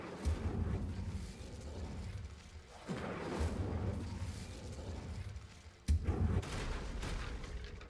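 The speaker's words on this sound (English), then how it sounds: "I think you'll find that a Confringo cast travels a bit farther than that of a spell like Incendio" In a video game, fire spells cast at candelabras burst repeatedly as three distinct booming blasts with crackling fiery tails, each one striking hard and then fading, with no voices.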